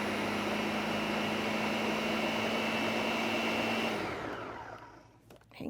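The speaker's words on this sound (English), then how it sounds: "And this is kind of loud, so bear with me. And we're going to just blend this up." Blender whirring loudly and steadily while blending a summer drink, a harsh continuous motor whine that winds down and stops near the end.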